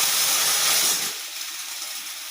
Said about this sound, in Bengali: তো ডালটা আমার সিটি মারা হয়ে গেছে,